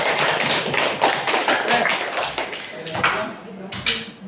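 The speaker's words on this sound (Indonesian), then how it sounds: "Tepuk tangannya dulu untuk kita semua." A classroom audience bursts into applause, many hands clapping loudly together for a few seconds before thinning out, with voices mixed into the clapping.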